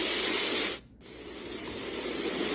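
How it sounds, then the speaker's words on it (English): Steady broadband hiss from an OnLyee portable white noise machine, loud and close, briefly cutting out near the start before resuming as switching between sound settings, with no voices. "Now let's go over the 5 different white noises."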